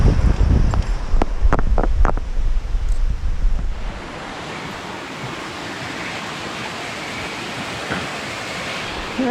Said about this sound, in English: second river crossing